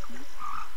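A single short frog croak in the Secret of Evermore game's swamp, a brief tonal call heard alone with no talk over it.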